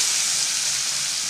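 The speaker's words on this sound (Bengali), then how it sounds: "তেলটা গরম হয়ে গেছে, পনিরগুলো কড়াইয়ের মধ্যে দিয়ে দেব।" Paneer pieces coated in salt and turmeric fry in hot oil in a kadai, giving a steady, loud, close hiss of sizzling with no talking.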